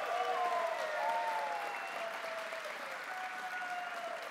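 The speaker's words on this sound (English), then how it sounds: "Can we have a big round of applause?" Audience applause at the Arctic Gaming Experience 2022 gaming event, steady clapping from a crowd that stays fairly even, with some tonal music or hum running underneath throughout.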